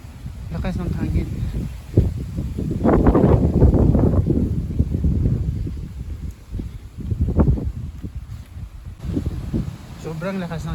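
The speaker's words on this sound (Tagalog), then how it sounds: "Ang ganda ng hangin, ang ganda ng sound ng hangin." Strong wind gusting outdoors in Longirod, Vaud, Switzerland, a loud sustained roar with rustling swells across the whole clip, under occasional talk.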